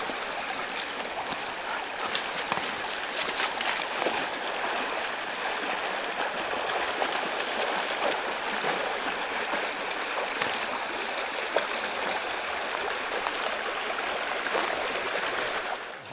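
Steady broadband rush of flowing creek water as hunters wade across, continuous and fairly close with no talk.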